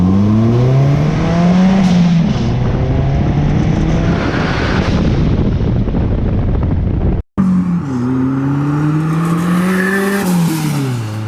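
A Honda-powered, turbocharged VW Bug on an MR2 chassis revs hard under about five pounds of boost, the engine note climbing and falling loudly, cutting out briefly, then surging again with a rising whine.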